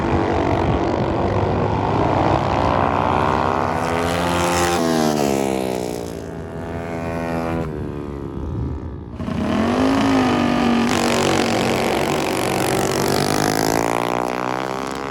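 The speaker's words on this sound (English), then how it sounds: "So it looks like Ike is lining up with a Z50 up against a proper race bike." Honda Z50 mini bike drag racing against a full race bike: loud, continuous high-revving engines close by, pitch climbing through gear changes, a brief dip, then another rising wail, with no voices.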